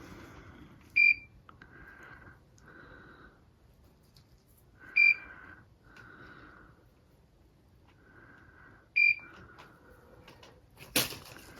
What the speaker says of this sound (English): I hope the beep isn't bothering you too much.